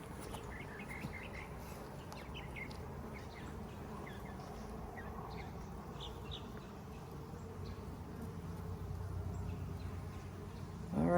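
Small winter honey bees hum softly around an open hive frame, a low continuous drone with faint birdsong chirping in the background and a sudden louder rustle at the very end.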